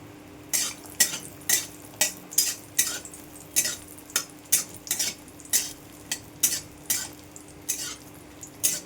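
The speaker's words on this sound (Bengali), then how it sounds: "তেলটা গরম হয়ে গেছে, এবার বড়িগুলো ভেজে নেবো।" Bori, small lentil dumplings, fry in hot oil in a wok. Regular scraping strokes from a spatula come about every half second over a faint background sizzle, close and without talk.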